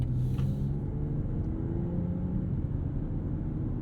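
A 2022 BMW X3 M40i's B58 inline-six engine idles with a steady low rumble, continuous and fairly close, with a faint higher whine briefly at the start and no talking.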